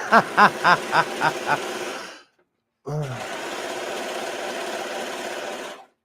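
Sewing machine stitching fabric for a shirt, first in several short rapid bursts, then after a brief pause a longer continuous run of close, steady whirring.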